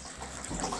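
Hot water poured from a kettle into a container for iced tea, a brief faint liquid splash and trickle heard close by with no talking.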